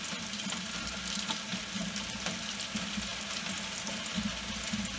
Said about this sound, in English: Yeah, deep frying on a 21-foot boat.